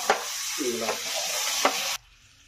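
Yogurt being stirred into chicken in a hot pan for palak chicken, a loud close sizzle with scraping stirs and bubbling that cuts off abruptly near the end, leaving near silence, with no speech.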